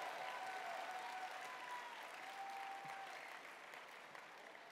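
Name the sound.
applause at convention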